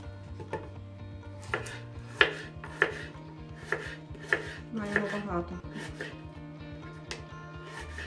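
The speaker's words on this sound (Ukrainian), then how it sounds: "і буду різати такими кусочками" A knife chops through crisp celery on a board in a loose series of sharp cuts, close and clear, over a low background hum.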